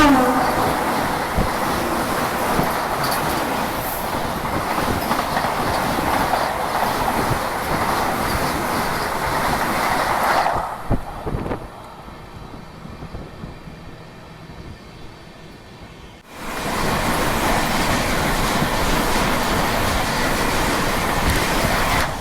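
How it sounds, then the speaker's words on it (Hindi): Ayodhya Vande Bharat Express rushing past on the adjacent track, heard from aboard a moving train as a loud sustained roar that cuts off abruptly for several seconds before the steady rumble returns. "ये मेरे ख्याल से अयोध्या वंदे भारत एक्सप्रेस थी"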